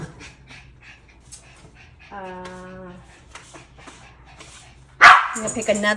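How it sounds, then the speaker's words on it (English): Dogs bark and pant close by in a home, with sharp yips and a drawn-out whine, ending in a loud burst of barking; a person's voice is heard between the dog sounds. "my dogs are always barking at each other, barking at people passing by my house"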